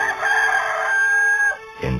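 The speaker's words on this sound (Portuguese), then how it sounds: "Imediatamente cantou o galo." A rooster crows once, loud and close, in a long drawn-out call, followed by a brief lower sound at the end.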